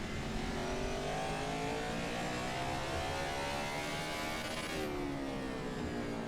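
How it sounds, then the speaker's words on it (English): A NASCAR 21 stock car engine at Martinsville roars in a constant, loud drone with layered harmonic whine, pitch climbing gradually then dipping near the end, heard alone without talk. "I think I heard my engine that time"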